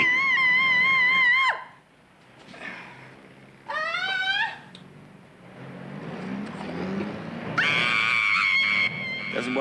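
A woman screams loudly in a farce comedy, with two long, high screams and a shorter shriek between them. Quieter voices and room noise fill the gaps.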